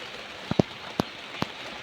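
Rain falls outside in a soft, steady hiss, with a few sharper drops tapping nearby.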